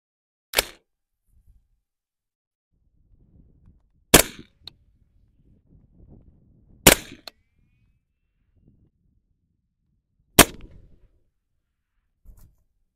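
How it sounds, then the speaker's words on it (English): Supersonic 300 Blackout rifle fired at a range target 50 yards away: four sharp, loud, separate cracks spaced a few seconds apart, with a fainter report at the end and near-silence between shots. "let's go ahead and put 3 rounds at 50 yards and see where we impact."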